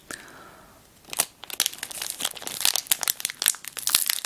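A box of Choco Pie snacks is torn and opened close up, with a short rising tone at the start and then rapid crinkling, ripping and rustling of packaging in dense bursts.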